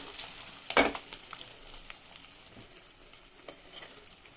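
Eggs frying in oil for a spicy egg curry being gently stirred, a soft, low sizzle with a sharp scrape of the spoon near the start and faint light taps and crackles afterward.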